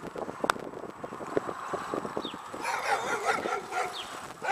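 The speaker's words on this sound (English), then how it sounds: "Dogs. They're not chasing us." Several dogs bark from the roadside during a tandem bicycle ride across the country, with sharp yips and woofs at moderate distance over rushing wind noise.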